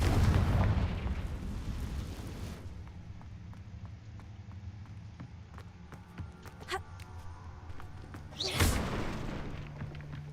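A Confringo spell explodes in the Hogwarts Legacy video game with a loud, booming blast that rumbles and slowly fades. A second sharp burst follows several seconds later over quieter game ambience.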